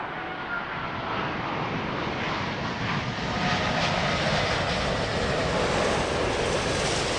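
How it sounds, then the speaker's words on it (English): A United Boeing 767 arriving from Chicago lands at Heathrow Airport, its jet engines producing a loud, broad roar that swells steadily as it passes near. "Following that one in from Chicago, United 938, that's a 767."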